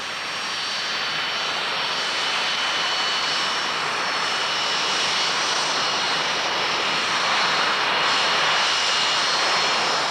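Engine of a Provost training aircraft after landing, a steady broad roar with a high whine on top, loud and close throughout with no letup.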